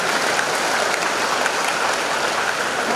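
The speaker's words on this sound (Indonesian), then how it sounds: "Tepuk tangan." A crowd at a Missio Canonica celebration gives sustained applause, a thick, even patter of many hands that sounds almost like heavy rain and carries on without a break or any talk.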